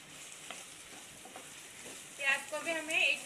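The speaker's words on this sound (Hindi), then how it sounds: "प्याज को भी हमें 1 मिनट तक भूनना है।" Onions fry in a pan for white sauce chicken macaroni, a steady soft sizzle with occasional stirring scrapes, while someone talks over it toward the end.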